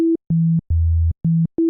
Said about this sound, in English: Right, that's just a sine wave.